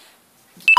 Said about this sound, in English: that's my phone battery running low, so I'd better end this video soon